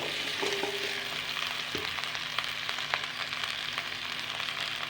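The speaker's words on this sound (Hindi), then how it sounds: "इसके अंदर जाएगा कुकिंग ऑयल और साथ भिंडी डालेंगे हम" Chopped okra fries in cooking oil in a kadai, a steady crackling sizzle with scattered pops and a brief utensil knock, no voices.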